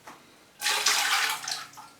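Water splashes from a can onto potted cymbidium orchids on staging, a sudden gushing, hissing pour that starts after a brief quiet and runs steadily before easing off.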